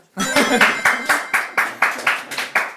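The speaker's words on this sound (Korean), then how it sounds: "다들 박수부터 치자" A small group claps in unison at a corporate workshop, about ten sharp, evenly spaced beats, close and loud, with voices over the rhythm.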